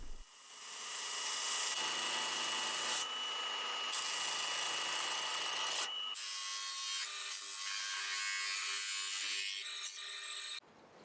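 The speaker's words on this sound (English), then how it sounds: "It's basically like a drum thingy with a sandpaper on it. You just stick it in your drill" A sandpaper-wrapped sanding drum spun in a drill works wood on an Art Deco chest of drawers, a steady loud abrasive whir with rubbing grit, shifting in pitch as pressure changes, running continuously alone.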